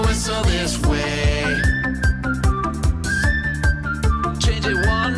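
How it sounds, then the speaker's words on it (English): Children whistle a melody that rises and falls in short phrases over a rhythmic, bouncy musical backing with steady beats. "Now whistle this way."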